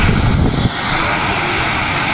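An XXL-scale radio-controlled JetRanger helicopter with a Jakadofsky turbine on landing approach at a model flying day gives a loud, steady broadband turbine and rotor roar, with a heavier low thump in the first moment before it evens out.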